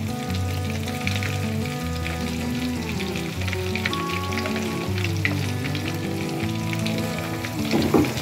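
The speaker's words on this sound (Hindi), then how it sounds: "पाँच मिनट से हल्की आंच पे पकाएंगे" Hyderabadi baingan curry with curry leaves, green chillies, tamarind pulp and sugar cooks in a pan over low heat, giving a steady soft sizzle throughout, with no talking.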